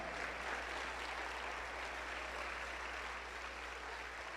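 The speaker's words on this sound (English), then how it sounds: "Give them a round of applause." A crowd applauds during a general session of Arkansas Boys State, a steady wash of clapping across a large hall, fairly faint and even throughout with no talk over it.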